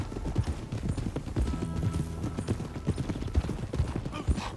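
Horse hooves clop quickly and loudly in the video game Red Dead Redemption 2, a dense galloping rhythm with a brief whinny mixed in.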